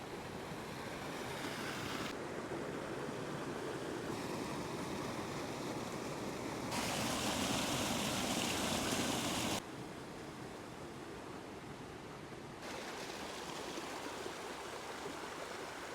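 Rainwater runs through a trail water bar with a steady, close rushing flow, its loudness shifting in sections with rough wind buffeting on the microphone.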